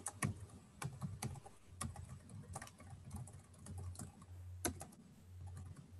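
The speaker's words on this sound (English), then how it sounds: "You can hear me typing?" Someone types on a computer keyboard with soft, irregular key taps and occasional louder strokes, close and faint over a low background hum, with no talk.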